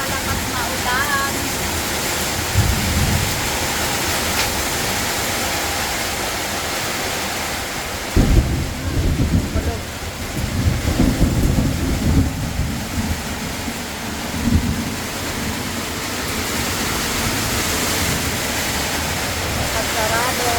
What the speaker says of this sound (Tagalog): Salamat sa napakalakas na ulan.